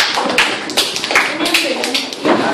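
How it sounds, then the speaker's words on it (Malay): A classroom of students claps in a small group, the sharp individual slaps uneven and close, with voices mixed in among them. "bagi tepuk tangan untuk bulannya"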